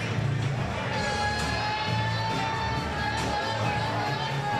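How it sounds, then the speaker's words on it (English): A sold-out crowd filling a fight arena at a bout between Chelsi Westdorp and Linsey Williams, a dense continuous roar of voices and cheering with scattered shouts, steady and moderately loud. "It's quite the crowd."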